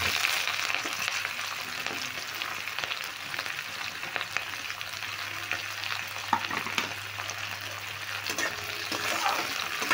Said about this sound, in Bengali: এবার পেঁয়াজটা আমি একটু হালকা লালচে করে ভেজে নেব।